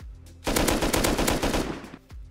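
Rapid automatic gunfire from the survival video game Rust rattles out in one loud, sustained burst of about a second and a half, with quieter background noise before and after.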